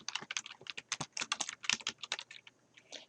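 Rapid clicking keystrokes on a computer keyboard, typed in quick bursts with a brief pause near the end, heard up close in a quiet room.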